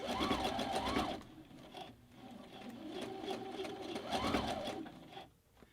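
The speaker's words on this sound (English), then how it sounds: "So I'm just going to stitch here to the end." A sewing machine stitches a seam on a front fly zipper, whirring close and steady in fast rhythmic bursts that briefly pause and resume.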